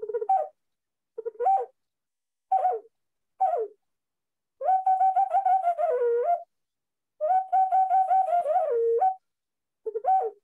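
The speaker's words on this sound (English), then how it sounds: "You can even almost make it sound like birds in nature" A clay wind instrument of Mexica and Maya tradition plays bird-like calls, short warbling chirps followed by longer sustained trilling phrases, clear and close with silent gaps between them.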